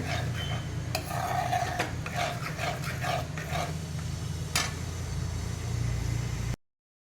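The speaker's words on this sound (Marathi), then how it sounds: "जोपर्यंत घट्ट होत नाही ना तोपर्यंत आपण सतत हे ढवळत राहायचं" A spoon stirring thick dal cooked with raw mango in a pot, with repeated close scrapes and knocks against the metal over a low steady hum.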